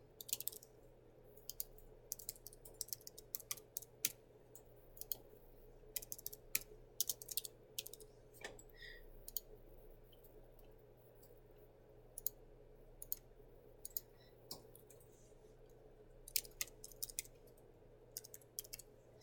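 Quiet, irregular clicking of fingers typing on a computer keyboard comes in short bursts with pauses between, against a low background hum.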